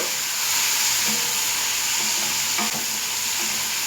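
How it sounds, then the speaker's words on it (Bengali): Bitter gourd frying in a pan over a lowered gas flame gives a steady close sizzle with stirring scrapes and occasional sharper clicks, all on its own for about four seconds. "গ্যাস কমিয়ে দিলাম এবার উচ্ছে বেজে নেব"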